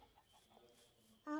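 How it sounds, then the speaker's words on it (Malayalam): A chicken gives a short, close cluck at the very end, after a few soft, faint chirps, at a house built with friends. "കോഴി"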